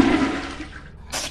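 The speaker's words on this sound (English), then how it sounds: "Don't flush my toilet!" A toilet flushing in the video game Lethal Company: a loud gurgling rush of water that fades, then a short hiss of refill, heard alone.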